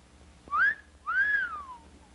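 A person whistles two rising and falling notes, a short one followed by a longer drawn-out one, close and clear with no talking.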